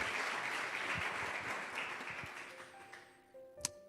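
A church congregation claps together for Jesus, strong at first and then thinning out into scattered claps and a few sharp taps, with faint tonal sounds near the end.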